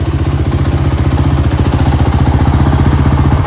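A small two-stroke engine of a Yamaha Banshee 350 ATV fitted with the wrong exhaust, idling steadily up close, a rapid even chugging throb that holds constant throughout, no voices.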